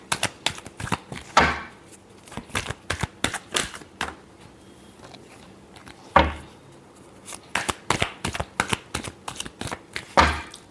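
Tarot cards being shuffled by hand in crisp riffling bursts, with pauses between and a few louder bridge-like swells, close and clear with no talking.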